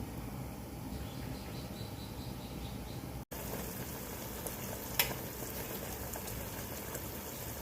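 Jackfruit pieces simmer in sugar syrup in a pot, giving a steady, soft bubbling and faint sizzle that runs alone throughout, with a brief gap and a small clink midway.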